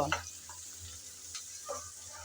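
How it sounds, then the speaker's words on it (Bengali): Spices with dried shark are stirred and fried in a pan, giving a faint, steady sizzle broken by a few soft scrapes of the spoon. "সব মশলা আমি এখন ভালো করে নেড়ে চেড়ে কষিয়ে নেব"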